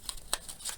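Hands shuffling a deck of cards from the Lancaster board game, a few brief soft riffling flicks in quick succession, close and quiet.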